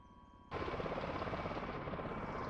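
An MV-22 Osprey in Microsoft Flight Simulator 2020 has its APU running and its engine starting, with a low hum that jumps abruptly into a loud, steady turbine roar and rotor wash.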